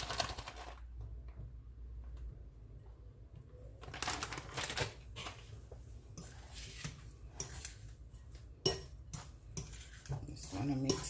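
A utensil scrapes and clinks against a pan while cheese is stirred into Jamaican-style fried potatoes, with scattered knocks and scraping bursts between quieter stretches.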